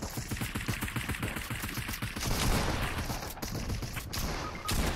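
Fortnite gunfire rattles in rapid, close, loud bursts for several seconds, with a couple of sharper isolated cracks near the end over busy game noise.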